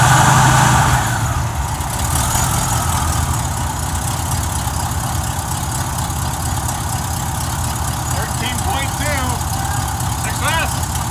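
An Oldsmobile 98 engine runs at idle with a belt-driven alternator spinning, a steady mechanical drone with a faint high whine riding on top, fairly close and continuous throughout.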